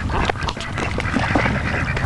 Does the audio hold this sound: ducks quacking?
yes